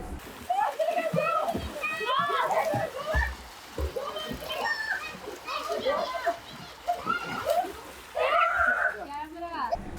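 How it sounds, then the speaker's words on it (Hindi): Water splashes and sloshing during a family pool party in Goa, with children's excited voices and adult talk continuously over the splashing. "गोवा में आयशा ने फैमिली के साथ पूल में इतने मजे किए"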